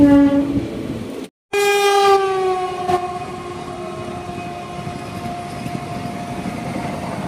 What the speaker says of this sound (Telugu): మన ట్రైన్ అరక్కోణం జంక్షన్ నుండి అయితే స్టార్ట్ అయిపోయింది